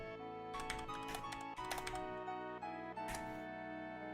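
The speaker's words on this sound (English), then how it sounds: "I know my keyboard's loud as fuck" A loud computer keyboard is heard in several quick bursts of clattering keystrokes, close and crisp, over a steady hum of background music during a game stream.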